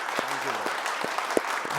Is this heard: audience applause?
yes